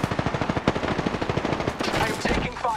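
Rapid automatic gunfire from the battle royale shooter Apex Legends rattles in loud, dense bursts, with sharp shots and a tail of clattering effects near the end; a voice speaks briefly over the action.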